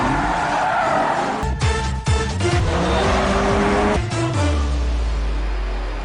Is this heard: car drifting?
yes